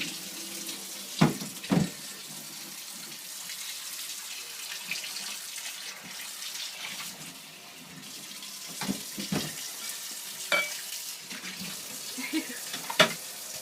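A tap runs steadily into a sink while something is washed, with occasional clinks and knocks of items against the basin.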